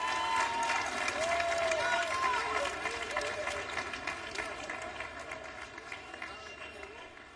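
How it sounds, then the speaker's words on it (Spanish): A festival crowd at WOMAD gives sustained applause and cheering, dense clapping with some voices mixed in, steady at first and gradually tapering off. "Venga, que se oiga fuerte, un aplauso."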